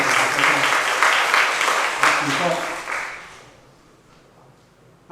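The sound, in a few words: applause in church congregation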